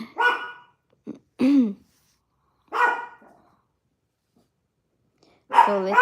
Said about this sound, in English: they will keep barking like that.